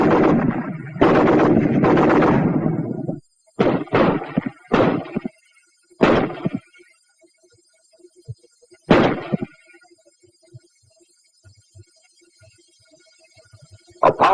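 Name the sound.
BAR automatic rifle firing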